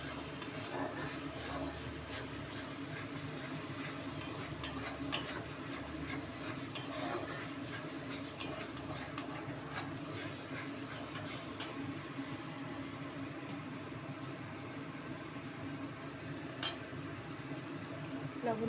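Stirring and frying turmeric and cumin powder in a pan for a vegetarian cauliflower curry, with a steady low sizzle under frequent scraping and clinking of a utensil against the pan, fairly close.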